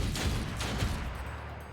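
A quick burst of gunfire from the turn-based game Othercide, several sharp shots within a second over a low rumbling game backdrop, fairly loud and close.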